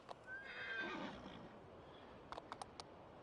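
A horse in a video game gives a drawn-out neigh, followed by a few quick clip-clop hoofbeats near the end, all fairly faint and without talk.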